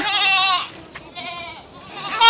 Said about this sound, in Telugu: ఈ మేకపల్లి అయితే బియ్యం తినేస్తా ఉంది ఇంట్లో అందుకోసం అయితే మేకపల్లి అయితే కట్టేసాను ఇక్కడ